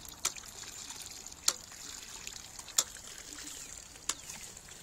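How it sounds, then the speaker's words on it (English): A water feature fed by a ram pump trickles softly and steadily outdoors, with sharp metallic clicks recurring at regular intervals of just over a second. "This one's running a water feature"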